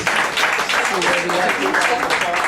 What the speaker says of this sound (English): how about a big round of applause for Mr. Hunter Diamond